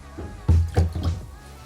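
A waterproof solar charger power bank is dipped into water, giving a few short, close splashing and sloshing bursts in quick succession.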